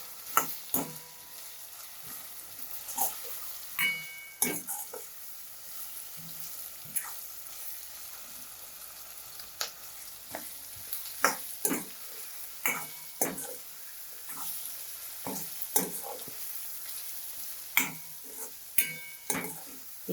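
Tomato and onion masala sizzles quietly in a pan while a spoon scrapes and stirs in irregular strokes, each clack of metal standing out close by.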